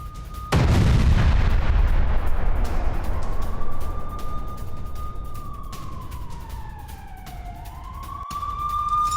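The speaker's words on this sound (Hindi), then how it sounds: "क्रास्नोगोरोव्का में फैब 1500 बम से हमला किया गया" A FAB-1500 bomb strike on a Ukrainian position in a brick kiln at Krasnohorivka: one sudden, very loud blast, then a long rumbling roar with a rising and falling whine as it fades.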